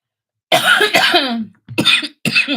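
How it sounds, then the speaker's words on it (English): Close, loud coughing from a person on a livestream: a harsh double cough, a short pause, then two more sharp coughs, with no talk. "sorry, coughing again"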